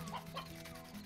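Chicken clucking in the video game Slime Rancher, a short series of soft, muffled clucks under a steady tonal game background, fairly faint.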